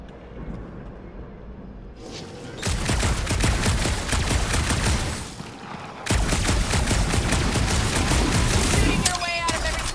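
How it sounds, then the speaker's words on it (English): Sustained automatic gunfire in the Marvel's Guardians of the Galaxy video game, loud and continuous bursts that break off briefly and then resume just as intense. "Shooting your way out of every problem again"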